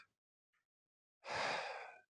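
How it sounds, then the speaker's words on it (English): A single sharp inhale drawn in through the mouth, used as a kendo breathing demonstration, rises suddenly and lasts nearly a second before stopping. It is close and fairly loud, and a tiny faint breath comes earlier. "look at what happens to my chest when I inhale through my mouth"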